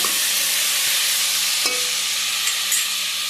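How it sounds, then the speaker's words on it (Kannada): Tomatoes frying in a pan for a rasam made without lentils, a bright steady sizzle with occasional light stirring knocks, close and fairly loud with no talk. "ಚೆನ್ನಾಗಿ ಫ್ರೈ ಆಗಬೇಕು"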